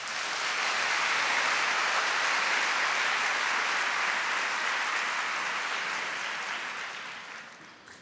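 A church congregation at a Catholic mass applauding: a dense, sustained wash of clapping that holds steady and then tapers off toward the end, with no voices.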